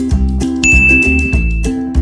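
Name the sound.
notification bell ding sound effect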